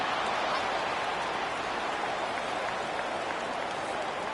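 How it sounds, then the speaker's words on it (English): A stadium crowd roars in the NCAA 25 college football video game, a dense, steady wall of cheering and noise that holds at the same loudness from start to finish, with no single voice standing out. "listen to this crowd noise. This stadium is vibrating."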